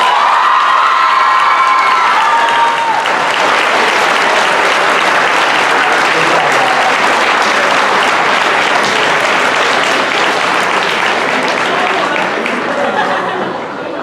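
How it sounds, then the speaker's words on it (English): A high school student recognition assembly audience applauds steadily and loudly for the whole stretch, with scattered cheers and whoops and a few shouts near the start. "one more round of applause for all of our students of the month."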